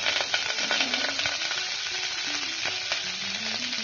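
Onions sizzle steadily in hot oil, a dense, even crackle that stays loud and close with no voices.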